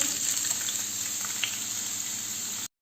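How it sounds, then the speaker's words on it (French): Bell peppers fry steadily in a shallow layer of oil, giving a constant, close hiss with faint crackles and no voices. "Et je vais faire frire mes poivrons."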